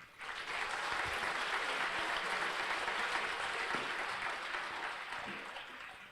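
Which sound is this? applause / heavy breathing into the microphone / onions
applause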